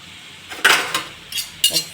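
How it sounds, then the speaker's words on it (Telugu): A spatula scrapes and taps in a pan while mill maker soya chunks and capsicum curry are mixed, a few short metallic scrapes and clinks close up, with no voices. "ఒకసారి మిక్స్ చేసుకున్నాం."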